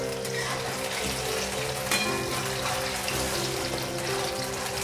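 Mushrooms fry in hot oil in a pan for restaurant-style chilli mushroom, giving a steady dense sizzle with scattered crackles and one sharper pop, close and without talk.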